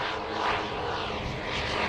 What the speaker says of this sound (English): Constellation, a beautiful aeroplane